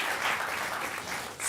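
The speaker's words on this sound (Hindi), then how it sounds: "जोरदार तालियों के साथ आपका हम स्वागत करते हैं।" Studio audience applause greeting guests on a Hindi political TV debate show, a steady dense wash of clapping throughout, fairly loud and without talk over it.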